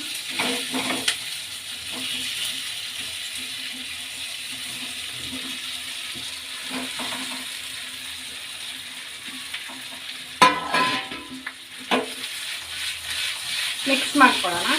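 Potato and chilli pieces sizzle and hiss steadily in oil in a shallow-frying pan, with a few louder scraping stirs near the end.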